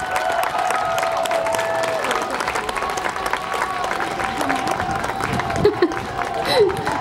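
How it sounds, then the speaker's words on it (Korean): An outdoor peace concert audience in Gimpo claps and cheers steadily. The applause sounds fairly distant and soft, with a faint sustained tone and scattered voices from the crowd. "다시 한번 뜨거운 박수 주세요."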